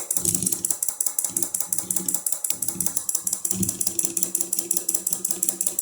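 An AC motor rewired as a brushless DC motor, with relays switching, runs slowly in reverse with almost no torque, giving a rapid, even, mechanical ticking that repeats steadily throughout at close range.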